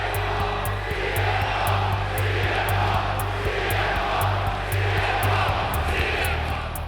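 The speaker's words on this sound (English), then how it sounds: "and the crowd is chanting." A wrestling arena crowd chants loudly as Triple H and Shawn Michaels come out for their DX routine, a dense, continuous roar with a pulsing rhythm and a low hum running underneath.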